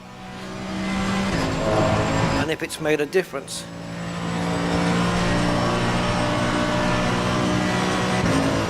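A race car engine in Assetto Corsa Competizione hums at steady revs, dips through a brief stuttering gear-change burst, then settles back into a sustained drone while someone talks over it.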